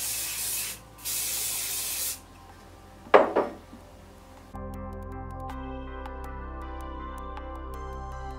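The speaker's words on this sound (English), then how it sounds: "make sure you are spraying each section with hairspray as you go" Alpha Puff Illuminating Hairspray misted onto hair sections in two bursts of a second or so each, close and fairly loud, followed by a brief clatter and then quiet background music.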